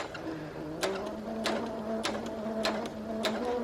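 A sewing machine stitches a scrunched-up ruffle in quiet, regular bursts of needle clatter about every half second, with a faint motor whine underneath.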